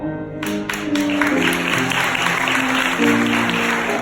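Wedding guests applaud in a hall after the ceremonial candles are lit, a full, steady clatter of clapping that rises after a quiet start and continues over sustained background music.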